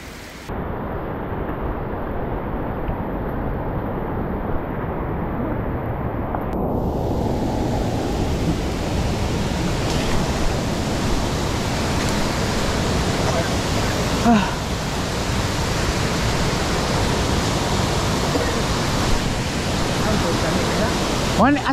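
Steady roar of Sungkoan Falls in Caraga, Davao Oriental, a broad continuous wash of falling water filling the whole clip at close range, with voices talking faintly beneath it.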